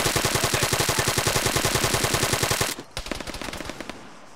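Machine gun fire in Arma 3: a long rapid burst of evenly spaced loud shots that cuts off briefly, then resumes with a looser string of shots and echoes trailing behind.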